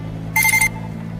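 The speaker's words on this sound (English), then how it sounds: "The alarm woke up Papa Bulbasaur." A short electronic alarm beeps in a quick burst of tones for about a third of a second over a steady low hum.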